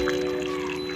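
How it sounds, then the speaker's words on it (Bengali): Boiled chana dal tipped into a pan of cooked potatoes for a Bengali vegetarian dal, giving a short, soft pouring, sliding rush with a faint trickle, close and steady over a constant low hum, with no voices. "তো এখন এর মধ্যে আমি দিয়ে দেব সিদ্ধ করে নেওয়া ছোলার ডাল।"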